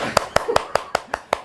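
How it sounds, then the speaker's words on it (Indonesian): About seven sharp hand claps ring out at an even, quick rhythm, close and crisp, with a faint murmur of voices underneath. "Wah, tepuk tangan."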